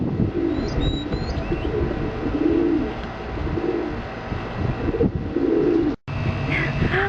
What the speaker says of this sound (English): Naughty pigeon doesn't want to go in the loft.